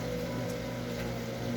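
Rain falls steadily and densely, a continuous even hiss with no breaks and no voices.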